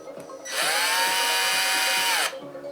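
A Ryobi PDD209KSB 18-volt drill, sold as brushless, spins up for about two seconds with a steady high whine close by, then winds down, with faint background noise before and after.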